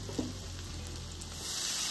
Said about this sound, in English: Ooh, sizzle, sizzle, pop, pop. Add some mushrooms.